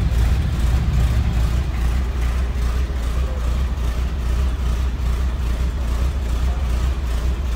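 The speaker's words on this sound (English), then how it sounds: "pretty smooth running inline six" A 1947 Chevrolet Loadmaster 5400 cab-over truck's inline six idles in a steady, smooth, low rumble, close and continuous without talk.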